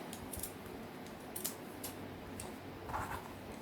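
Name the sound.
scissors cutting out fabric for a bird stuffie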